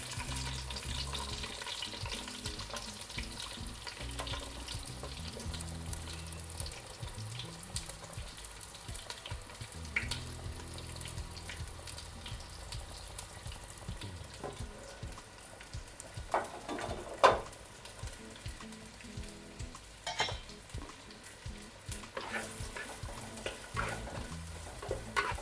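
Two large sliced onions fry in hot oil in a pan for fish biryani, a quiet, crackly sizzle with scattered pops and light stirring scrapes running steadily throughout, nobody speaking.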